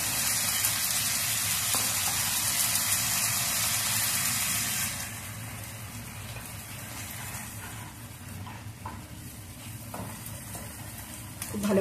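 Pre-boiled chicken is sautéed in a pan with small splashes of water, giving a steady loud sizzle that eases to a softer, crackling simmer halfway through.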